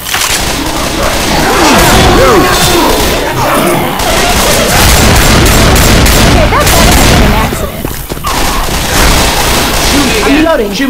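Video game firefight with loud rapid gunfire bursts, booms and crashes nearly continuous, voices talking and shouting over the shooting.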